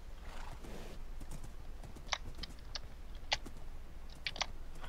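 Faint, brief clip-clop hoofbeats and snorts from a horse in a Minecraft jungle, coming as a few scattered sharp clicks over a low game background with some soft keyboard tapping and no talking.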